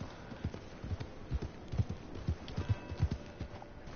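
Horse hooves in Red Dead Online, a steady rhythmic clip-clop of a ridden horse at a walking pace, moderately close over faint background hum.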